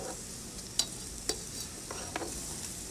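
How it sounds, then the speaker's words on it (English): Broccoli goes into a hot pan with almonds and lemon, producing a soft, steady sizzle broken by a few sharp clinks and scrapes of stirring. "So now we're just going to add this broccoli"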